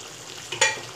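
A spoon stirs turmeric, red chilli powder, chopped ginger and melted tomatoes frying in a karahi for chicken karahi. One short scraping stir rises over a steady low sizzle, close and fairly loud.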